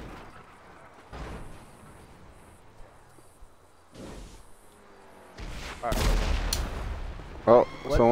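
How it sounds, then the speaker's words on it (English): Gunfire in the video game GTA 5, several broadband bursts and thuds: a burst near 1.2 s, another at 4 s, and a louder sustained volley from about 5.5 s with sharp cracks near 7.5 s, layered over game ambience. "Oh, someone's shooting at us."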